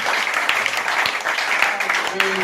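A church congregation applauding during a Sunday service, a steady wash of clapping from many hands with voices mixed in and a brief sung or spoken tone near the end.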